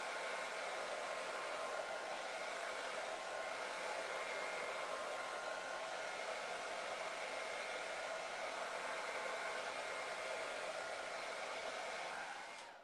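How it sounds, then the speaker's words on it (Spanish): A hair dryer blowing on wet watercolor paint of a sea turtle, a steady loud whooshing airflow that runs continuously for about thirteen seconds before cutting off at the end, with no voices over it. "Vamos dándole secador."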